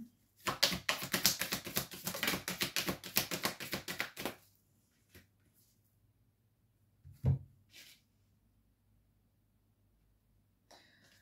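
A fast burst of tarot card shuffling, crisp and close, runs for about four seconds, then gives way to near silence broken by a single thump and a few faint handling sounds.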